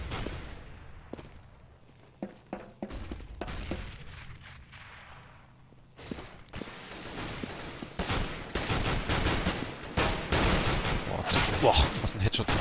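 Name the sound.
gunfire in Counter-Strike video game match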